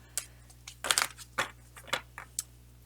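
Oracle cards are shuffled by hand in a few quick, crisp papery riffles and slaps, close to the microphone, with short gaps between bursts.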